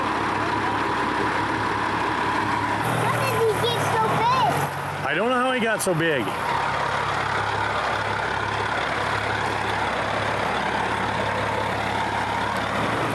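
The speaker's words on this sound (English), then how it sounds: "Hear that? Yeah, I hear it. That's the truck coming." A truck coming down the road near a highway, its heavy low engine rumbling steadily under a continuous background roar while people talk over it.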